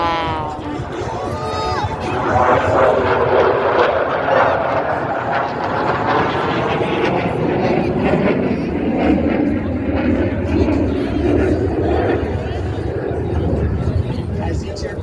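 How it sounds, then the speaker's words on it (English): US Navy Blue Angels jets fly over an air show at Wings Over Houston, a loud sustained roaring rumble sweeping past overhead with a wavering pitch, while a crowd and voices carry on underneath. "As each aircraft accelerates to 500 miles per hour, they will perform a half-Cubanate reversal turn."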